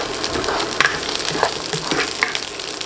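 Oil sizzling in a pan before ampalaya goes in, a continuous close crackle with a few sharper pops and light stirring scrapes, no talk.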